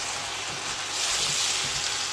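Smoked sausages and eggplant frying over maximum heat, a loud, dense, steady sizzle filling the short moment without any talking.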